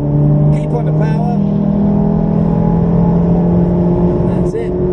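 A Ferrari on a race track holds hard acceleration, its engine a loud, sustained drone rising slowly in pitch, with an instructor speaking briefly over the noise.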